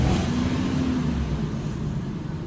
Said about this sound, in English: So we're gonna go ahead and give it a rev.